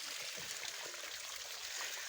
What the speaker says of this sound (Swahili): Maji ndio hiyo sasa.